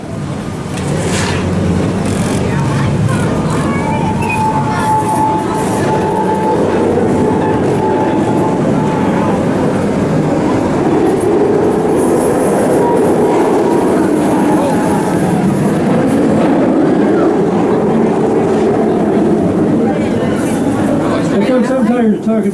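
A theme-park train ride at Busch Gardens Tampa rolls along steadily with continuous rumbling and faint wheel clatter, a long loud wash of motion noise with a brief tonal squeal early on.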